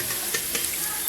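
Onions frying in a pan for an aloo chicken keema dish, a steady close hiss of oil with faint soft stirring ticks, no voices.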